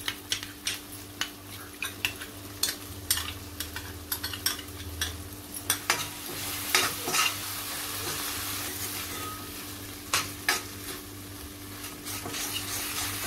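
Beaten yogurt is stirred into a simmering matar paneer gravy, a soft steady sizzle broken by repeated spoon scrapes and clicks against the pan.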